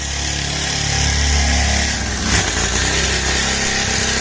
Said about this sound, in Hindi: अपने डर्ट बाइक से ड्रिफ्ट मारने जा रहे हैं